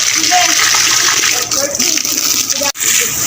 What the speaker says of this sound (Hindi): हाँ जी, पौधों को पानी लग गया है।